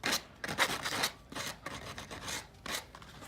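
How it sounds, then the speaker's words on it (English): Small four-in-hand file rasping plastic track, a series of short, close, scratchy strokes in an uneven rhythm, fairly quiet with no voices. "take a little filing block, a little 4-in-hand file, and just get rid of that little point"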